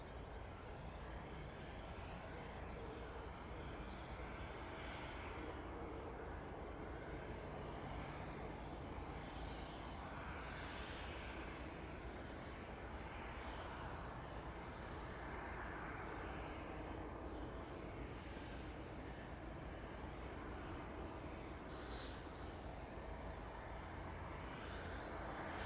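A faint, distant jet airliner climbs away from East Midlands Airport, its engines a broad, steady rumble that drifts on without breaks.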